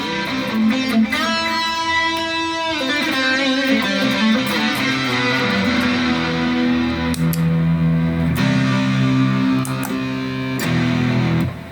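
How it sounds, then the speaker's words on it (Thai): Electric guitar playing through reverb and chorus effects at a clean-to-drive live stage setup, sustained chords and picked notes ringing with a wide, shimmering wash, loud and continuous with no talking. "เสียงรีเวิร์บคอรัส ต้องอย่างนี้เลยฮะ"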